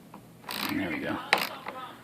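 A ratchet wrench clicks while tightening a bolt on a fridge door, giving a short burst of metallic pawl ticks and a sharper final click, close and moderately quiet, with no talk.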